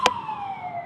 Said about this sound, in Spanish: La ambulancia.